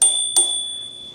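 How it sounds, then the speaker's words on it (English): A thumb-operated bell on a Segway ZT3 Pro electric scooter rings twice, a bright metallic ding followed by a second strike about a third of a second later, both tones ringing on and slowly fading, close up and alone. "Just below the button pad, you do have this bell. It sounds like this."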